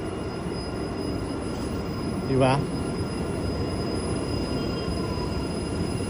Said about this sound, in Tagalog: Ito yung LRT, yan o.